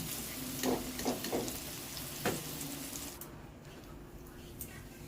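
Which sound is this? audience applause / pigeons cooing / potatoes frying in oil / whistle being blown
potatoes frying in oil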